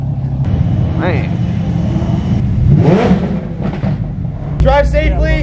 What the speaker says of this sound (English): Everybody's starting up the motors.